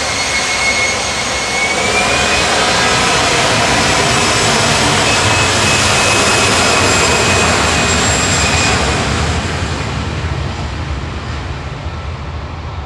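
An easyJet jet departs Manchester Airport for Jersey with a loud, sustained engine roar and a whining tone held close throughout, fading slightly toward the end.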